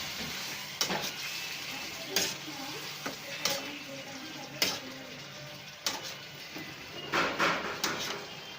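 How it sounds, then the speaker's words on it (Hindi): Half a kilo of potatoes being mixed with spices in a frying pan makes intermittent spatula scrapes and clatters against the pan over a faint sizzle, with quiet pauses between the strokes. "आप इनको मिक्स कर लेंगे अच्छी तरह।"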